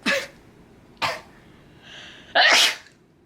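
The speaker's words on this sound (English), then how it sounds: "I'm gonna sneeze," A person sneezes close to the microphone, a few sharp bursts about a second apart ending in a longer, stronger full sneeze, with quiet in between.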